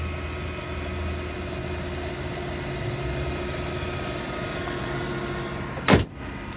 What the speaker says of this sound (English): Under the hood looks great. Motor sounds good.